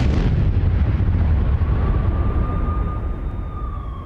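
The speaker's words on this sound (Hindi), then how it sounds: "में एक के बाद एक कई धमाके हुए।" A loud explosion in Bakhmut during the Russia-Ukraine war bursts out and rolls into a heavy, rumbling roar that slowly fades, with a faint high tone lingering in the background.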